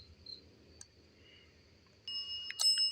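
A small electronic bell on a ghost-hunting device chimes near the end, high and brief, over a steady chorus of crickets and insects at a Civil War battlefield at night.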